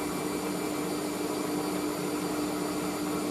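A new washing machine spins at 400 RPM, giving a steady, loud whirring drone with a constant hum that runs unbroken and unchanging throughout, with no talk.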